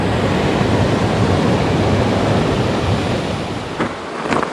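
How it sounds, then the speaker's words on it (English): Small falls and rapids of the Madawaska River rushing beneath a bridge make a loud, steady broadband roar of churning water, continuous and close, with a brief knock near the end. "you can certainly hear the small falls and rapids"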